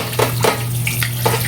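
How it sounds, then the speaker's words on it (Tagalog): Weak trickle of water from a home tap, a thin, uneven running sound close by with a steady low hum underneath. "Ang hina na ng tubig mga palangga."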